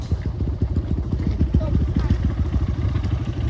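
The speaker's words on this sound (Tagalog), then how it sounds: "Ayun may dumaan din na motor eh." A motorcycle on a muddy enduro trail between Umiray, Dingalan and General Nakar, its engine chugging in a steady rapid pulse close by, loud and continuous with some clatter.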